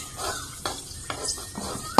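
Oil heats in a pan for cooking kochur loti (taro stolons), heard as a faint, low hiss broken by a few sharp clinks and stirring taps of utensil against pan, one louder knock at the end.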